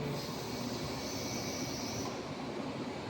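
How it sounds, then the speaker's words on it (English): A hooter sounding at a sewage treatment plant, a steady loud continuous drone running unbroken through the whole moment, with machinery noise underneath and no talk. "So now the hooter is on."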